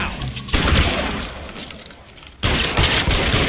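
Dense bursts of gunfire in the L.A. Noire video game, loud and close, a heavy volley that fades into a lull before another sharp burst breaks out.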